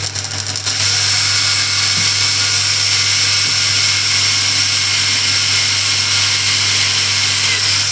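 A power drill whines steadily and loudly for several seconds while drilling a screw chuck hole, a constant high-pitched mechanical drone with a low motor hum underneath.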